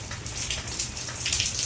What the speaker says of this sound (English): Still raining a good bit